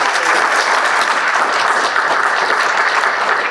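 Dense, steady applause from a conference audience fills the room loudly and evenly, with no pauses in the clapping.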